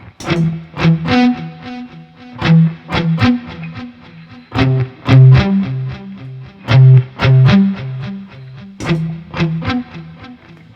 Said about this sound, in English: Let me record a quick loop with the reverb and delay.